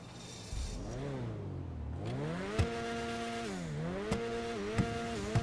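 Sports car engine in GTA 5, the Ocelot Locust, revving up and down through several rising and falling sweeps, loud and close, with a few sharp pops or backfires between revs and no talk.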